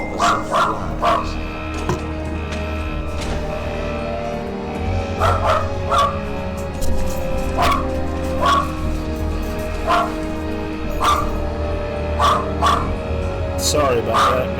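A dog barks in repeated short bursts, sometimes in quick pairs, close and loud, with faint game sounds and a voice underneath during a PS1 Metal Gear Solid session.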